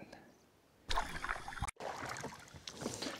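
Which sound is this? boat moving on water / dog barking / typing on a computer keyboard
boat moving on water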